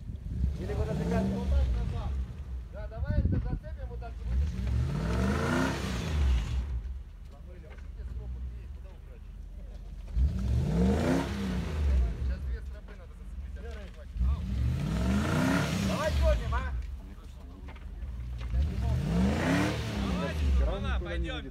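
A Toyota Land Cruiser 80 with a 4.3 engine labours up a mountain climb in Kazakhstan, revving in four or five long surging waves that rise and fall, loud and close, with voices talking over it.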